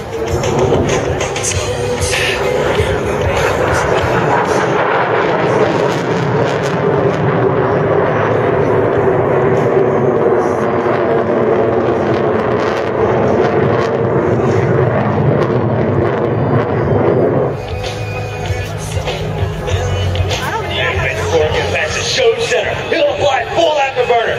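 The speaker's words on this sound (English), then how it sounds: "Major Corrigan is now slowing the Viper to prepare for a slow speed path." An F-16 Viper fighter jet flying at the Wings Over Atlanta airshow, a loud sustained engine roar that dips near the end, with an announcer talking over it throughout.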